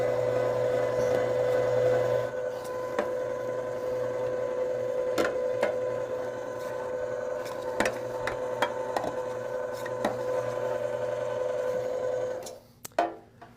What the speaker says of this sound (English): I'm now going to turn on the grinder and feed the meat through the chute into the grinder for our second grind